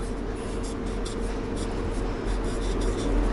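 A pen or pencil scratching steadily across paper as the word swim is written for an English grammar lesson, a close, continuous rasping stroke heard alone over faint background hiss.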